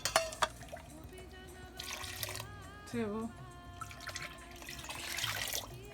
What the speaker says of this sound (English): And now you have to add some more water.